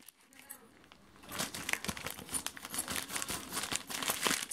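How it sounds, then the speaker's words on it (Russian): A parcel shipped from China being unpacked up close: steady crinkling and crumpling of plastic packaging with bursts of rustling and tearing that grow louder after the first second. "И последняя на сегодня распаковка."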